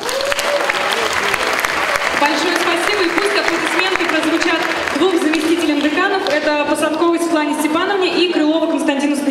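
Enthusiastic applause fills a hall at a student initiation ceremony for first-year students: loud, dense clapping from a large crowd throughout, with a voice rising over it in the second half.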